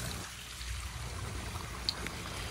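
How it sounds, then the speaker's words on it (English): Backyard waterfall, the louder of two, rushing and splashing steadily nearby as a continuous broadband wash of water. "over here at this waterfall is my louder waterfall of the two"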